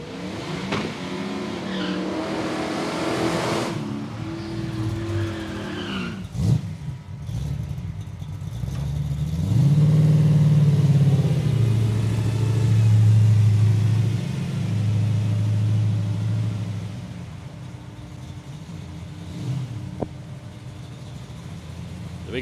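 Drag racing cars, including a big block Chev, accelerating down the strip at Palmyra Raceway, loud rumbling engines rising and roaring with a brief sharp crack midway and a sustained heavy drone toward the end, heard from the trackside.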